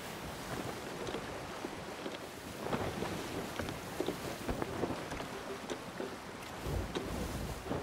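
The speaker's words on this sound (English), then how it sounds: "have a storm chasing me now." A Sea of Thieves storm at sea, with steady roaring wind and crashing waves washing around a sailing ship, dense and continuous with occasional heavier surges.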